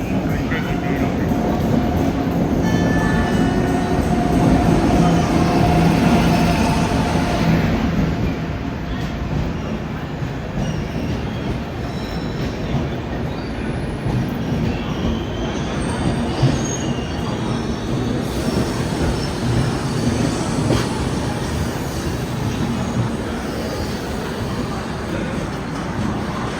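Steady rumble and rattle of a Vande Bharat Express chair car running on rails between Raipur and Nagpur, with wheel squeals and rolling clatter throughout, loud and close from inside the coach.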